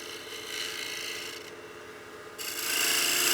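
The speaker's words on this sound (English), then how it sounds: "I'll use my sandpaper to just roll that bead just a little smoother" Sandpaper hisses steadily against a bead on a spinning wood turning on a lathe, close up. There is a brief softer dip partway through, then the rubbing grows louder.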